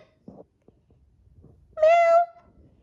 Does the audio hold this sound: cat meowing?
yes